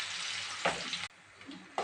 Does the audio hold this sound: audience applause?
no